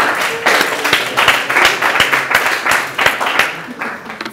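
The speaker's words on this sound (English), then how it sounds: "Give her a round of applause." Applause from an audience at a tutoring awards ceremony, a fairly small crowd clapping in uneven, distinct rapid claps that pulse and fade across a few seconds.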